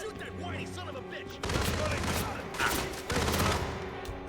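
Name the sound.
gunfire in the video game Hitman: World of Assassination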